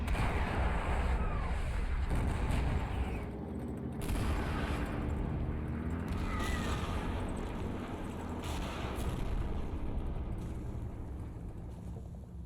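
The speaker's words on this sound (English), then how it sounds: "it starts receiving pretty heavy indirect fire" Heavy indirect artillery fire in the combat game Combat Mission Shock Force 2, a dense continuous roar of rumbling explosions and crackling blasts, steady and loud throughout with no voices.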